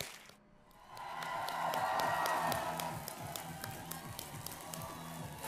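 A studio audience on the TV quiz show Kaun Banega Crorepati applauds to welcome the Indian women's cricket team, with quiet, rhythmic clapping and cheering that swells after a brief pause and then settles into steady applause.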